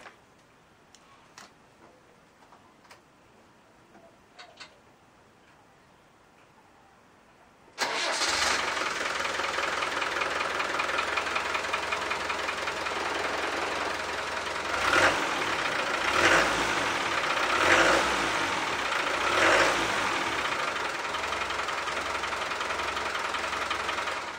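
Land Rover 300Tdi diesel engine cranking and firing after a few faint clicks, then settling into a loud, steady idle with a knocking diesel rattle and occasional revving.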